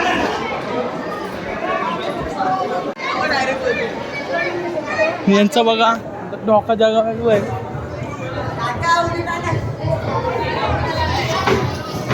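Dense crowd chatter fills a packed Ekvira temple, with overlapping adult and children's voices close by and steady throughout, a few louder nearby speakers cutting through the babble.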